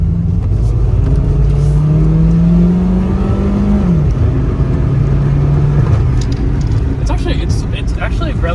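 A 1997 Toyota Corolla, an older four-cylinder car, accelerates hard at full throttle, engine drone rising in pitch through two gear changes, heard loud and close from inside the cabin with the window down and wind noise.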